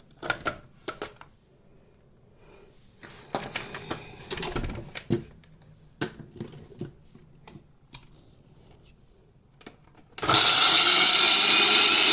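Close clinks and clatter as ingredients for sahi paneer go into a mixer grinder jar, then the grinder abruptly kicks in with a loud, steady, close-up whirring roar that runs to the end without any talking.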